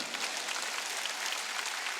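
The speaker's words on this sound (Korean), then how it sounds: "이걸 믿는 사람 박수라." Church congregation clapping during a Sunday worship service, a steady dense wash of many hands, moderately distant and continuous with no talking.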